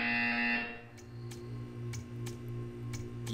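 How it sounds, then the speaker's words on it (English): A buzzer sounds in the video game Portal 2: a loud tone at first, then a run of short, evenly spaced ticking pulses over a steady electronic hum. "You will hear a buzzer."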